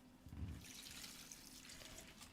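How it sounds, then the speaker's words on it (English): Water poured onto a garden rhubarb plant, a soft continuous trickle and splash close by, quiet and steady with no talking. "I need to give it some water."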